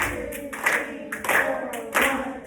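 A class of sixth graders claps together in a steady quarter-note rhythm, three sharp group claps about half a second to a second apart, near and fairly loud with a faint room background.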